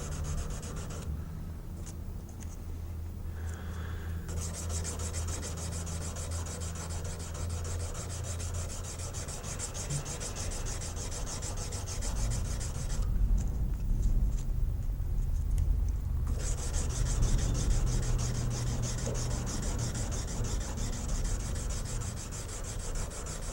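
Steady hand sanding of a knife blade, a continuous rough rubbing scrape with brief pauses, close and alone with no talking.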